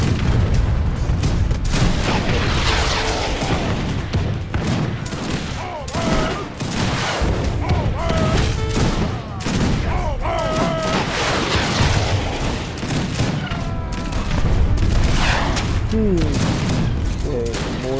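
Mortar and gunfire in an Age of Empires 3 Wars of Liberty match, dense repeated booms and crackling volleys rolling continuously under a caster's talk.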